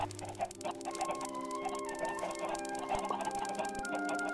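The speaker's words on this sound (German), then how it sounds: "Da schwimmen die Hühner." Minecraft chickens clucking in repeated short calls over steady background game music, moderately loud and continuous, with no talk.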